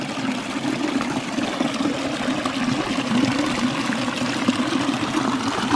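Small waterfalls in a rocky creek at Bell Smith Springs in the Shawnee National Forest, giving a steady, close rush and trickle of water throughout with no talking.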